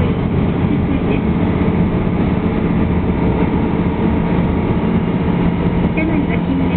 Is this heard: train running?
yes